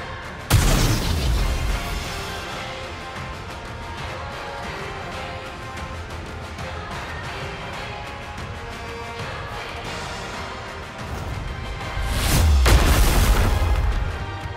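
Heavy bombardment and gunfire in the Goddess of Victory NIKKE video game, with a loud boom at the start, a sustained barrage of blasts and rapid shots, and a second heavy explosive surge near the end.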